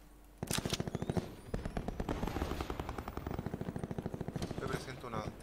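Rapid bursts of video game gunfire rattle in quick succession, loud and close, with a few heavier shots and a voice speaking faintly underneath.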